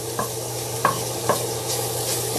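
Bacon cooking in a pan for mini beef pies, a continuous close sizzling hiss with a few soft scraping stirs, no voices.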